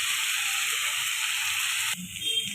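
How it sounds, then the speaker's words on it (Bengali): Cut potatoes sizzling in oil in a pan, a dense steady hiss close up, abruptly dropping and shifting near the end as the frying is disturbed, with no voices. "আলুটা ভাজতে ভাজতে একটু সামান্য নুন দিয়ে দেবো।"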